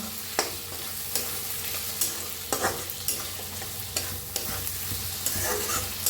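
Chopped tomatoes and onions frying in a pan, a continuous sizzle broken by regular scraping stirs of a spatula against the pan bottom, close and fairly loud, with no talking.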